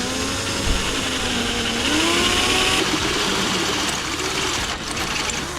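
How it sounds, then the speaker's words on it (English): A hardened drill bit grinds through metal while drilling holes in the frame of a Jeep JL. The loud, close whine stays steady throughout and rises and dips in pitch as the bit bites. No one speaks. "Both of the holes marked up, and it's time to drill."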